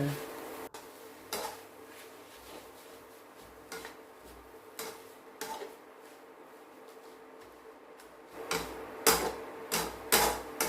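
A utensil stirs and scrapes Pad Thai with bean sprouts and shrimp in a pan, giving scattered clinks and knocks that grow busier and louder toward the end, close by with no voices.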